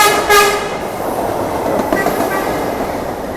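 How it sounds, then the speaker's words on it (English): A loud train horn blares briefly at the start, then the train keeps rolling past with a steady roar and rattling wheels. "That's the train saying good morning to you."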